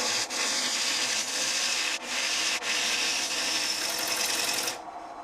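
A wood lathe turns a lazy Susan blank while a tool scrapes near the chuck, making a steady, close, broadband rasping that runs almost without a break. It stops abruptly near the end.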